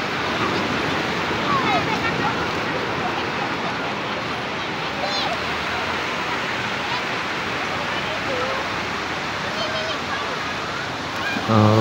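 Surf at Lhoknga beach in Aceh Besar, a steady broadband roar of waves washing over rocky coral shore at low tide, continuous and fairly close, with occasional faint voices in the background.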